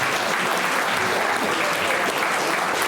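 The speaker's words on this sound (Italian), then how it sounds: "Un applauso." Applause from an audience at an outdoor summer event in Italy, steady sustained clapping throughout.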